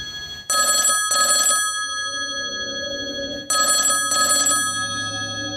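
A telephone rings in two clear double-burst trills, the second pair arriving after a short pause, loud and close, with a faint steady background tone and no talking.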